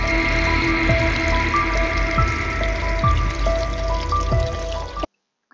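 A household tap left running, its steady water stream pouring continuously and evenly for about five seconds before stopping abruptly, with no talk over it.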